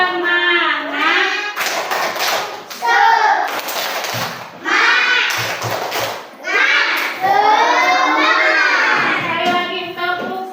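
Schoolchildren in a classroom perform a rhythmic clapping chant together, bursts of hand claps alternating with loud sung and shouted group voices, close and lively throughout.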